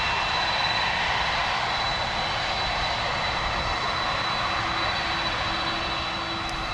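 Air Force One, a large jet, taxis in at Palm Beach with a loud, steady, continuous engine roar and whine that fills the whole stretch, with no talking.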